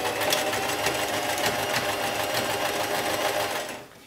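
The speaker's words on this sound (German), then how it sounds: "Dafür stelle ich mir jetzt einen etwas größeren Zickzackstich ein bei gleicher Stichlänge von 2." A sewing machine runs steadily, overcasting a shirt edge with a wide zigzag stitch at stitch length 2 while a men's shirt is taken in to a women's size. The close, continuous mechanical whir stops just before the end.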